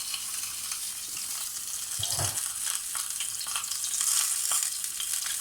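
Saint-Jacques scallops sear in a hot pan with a steady, bright sizzle that stays close and continuous throughout, with a brief soft scrape or stir partway through.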